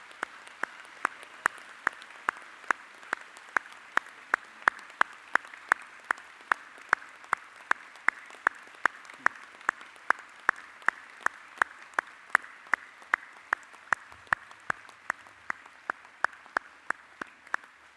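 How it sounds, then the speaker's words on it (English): Steady, even clapping from a graduation ceremony audience applauding the graduates, regular sharp claps carrying on for the whole stretch without voices. "join with me in congratulating our graduates by giving them a warm round of applause"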